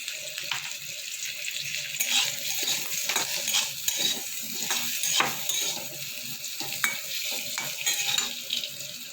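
Green beans and potatoes fry with turmeric in a pan, giving a steady close sizzle broken by scraping stirs and a few sharper clicks throughout, with no talking.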